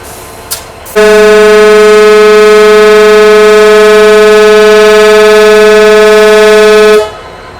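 A loud, steady EMD diesel locomotive horn blares for about six seconds close by at Ambasa railway station in Tripura, India, a sustained multi-tone blast over a faint background.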